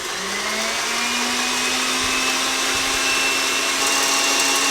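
An electric mixer at full speed whipping meringue, a steady loud whirring drone with a rising whine as the motor spins up, close and continuous without talk.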